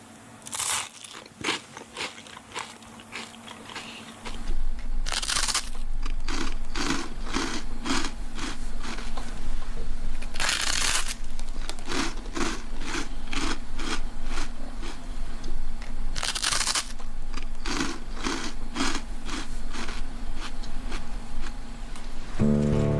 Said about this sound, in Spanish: El sonido que los humanos y animales hacen al masticar proporciona información acerca de si les gusta el sabor de lo que comen